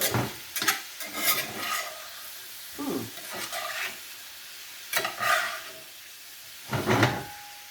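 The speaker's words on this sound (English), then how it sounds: "Really want these frying and browning" Bursts of sizzling and scraping from steak bites frying in a pan, stirred in several separate strokes with brief quieter gaps between.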